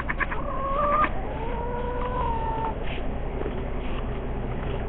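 Chickens cluck and murmur inside a laying coop on a cold night, several birds close by with repeated short calls over a steady low hum, no talking.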